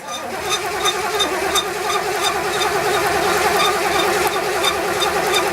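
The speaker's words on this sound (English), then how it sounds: "go ahead and give her some more cranks" A Chevelle engine turning over on the starter, a steady wavering cranking drone with a pulsing rhythm that runs continuously for several seconds, fairly loud and close, with no voices.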